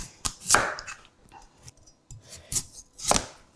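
A chef's knife chops through root vegetables such as rutabaga on a cutting board, producing sharp, close knocks in uneven bursts separated by short pauses.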